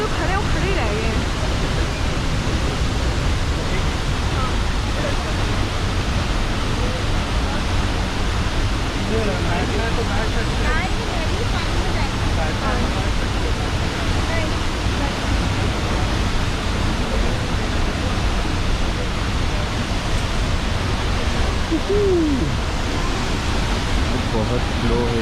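Soochipara waterfall in Wayanad, Kerala, roaring in a steady, dense rush of falling water that never lets up, with faint voices just audible beneath it.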